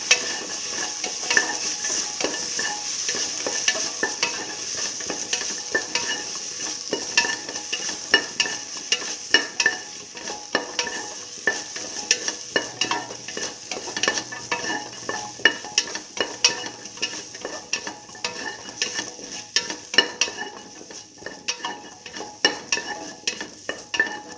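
Potato, split mung beans and rice stirred as they fry in a pan, a steady close sizzle with repeated scraping and clinks of a spoon against the pan, continuous throughout with no talking.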